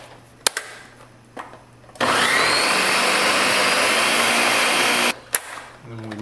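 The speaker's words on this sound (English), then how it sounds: "Blend this up for a quick minute." A kitchen blender whirs loudly and steadily for about three seconds, blending watermelon with sugar and water, then cuts off; a few light kitchen clicks come before and after.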